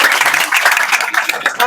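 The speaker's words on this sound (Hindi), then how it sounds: "जोरदार ताली।" A school class applauding loudly, dense continuous clapping from many hands, close and steady throughout the short burst.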